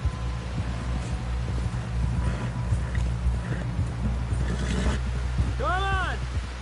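Horse hooves clip-clopping in the Red Dead Redemption 2 video game, a soft, steady patter under a low droning game soundtrack, with a brief whinny-like call near the end.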